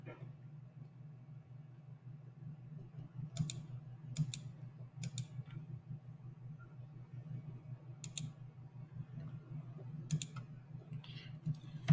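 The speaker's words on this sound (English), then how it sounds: "I'll just use my keyboard here" Scattered clicks of typing on a computer keyboard, a few short bursts of keystrokes over a low steady hum, fairly faint and with no talk.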